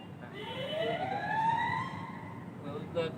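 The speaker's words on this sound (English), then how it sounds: "the sirens are sounding. That means the circle is about to close" A wailing video game warning siren in Free Fire rises and falls in pitch over a rumbling background, fairly loud and continuous, with faint talking mixed in.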